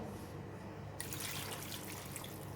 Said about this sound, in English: Add in all water